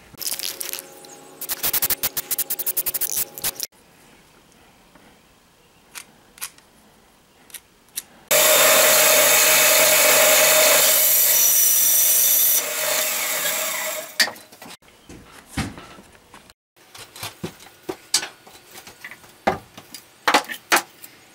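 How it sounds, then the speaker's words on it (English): A jigsaw cuts a hole through a wooden 2x4 shield, a loud continuous buzzing run of several seconds framed by scattered knocks and handling clatter in a workshop. "I broke my last blade, so I had to switch to the jigsaw."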